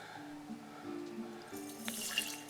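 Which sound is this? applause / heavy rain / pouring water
pouring water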